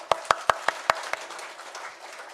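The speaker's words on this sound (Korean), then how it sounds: "우리 한번 박수 한번 쳐봅시다." Hands clap at a Korean church Sunday service: five sharp, evenly spaced claps in quick rhythm, then a weaker one as the sound trails off into the quiet room.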